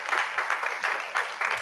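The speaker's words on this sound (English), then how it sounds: "So let us give a clap to all the kids." Brief burst of applause from a school hall audience with many children, a dense patter of clapping hands at steady moderate loudness.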